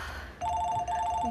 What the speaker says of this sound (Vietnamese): Xin lỗi, cháu nghe điện thoại.